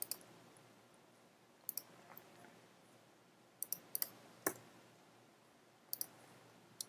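Faint, sparse clicks of a computer keyboard or mouse, single taps and quick pairs scattered over a few seconds against near silence.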